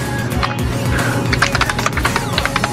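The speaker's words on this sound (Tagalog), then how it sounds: "i-test natin yung kanyang tunog ng keyboard kung ano ba" Keys on a Redragon S107 keyboard clatter in quick irregular bursts of sharp clicks, close and fairly loud, without any talking.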